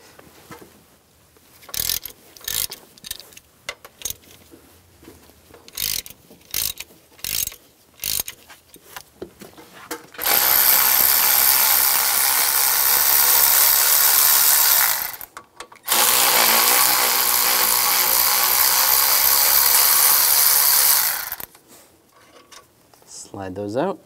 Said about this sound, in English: Take these two bolts out, use a 15mm socket.